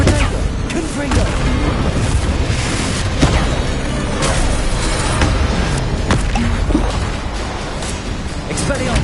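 A Confringo explosive spell cast repeatedly in Hogwarts Legacy, with dense, loud booming blasts and crackling bursts filling the whole stretch while a voice talks over them.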